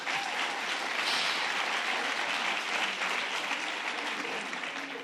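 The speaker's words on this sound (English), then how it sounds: "you can clap" Audience applause at a press event announcing a health care lawsuit: dense, continuous clapping from a sizeable crowd, steady and fairly loud throughout with no talk over it.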